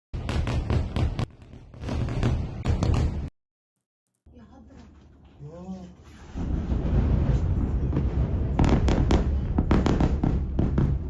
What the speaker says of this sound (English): Could be artillery cooking off.